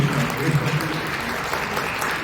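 An audience claps at a social welfare council event before a concert performance, a continuous, fairly close round of applause from a seated crowd.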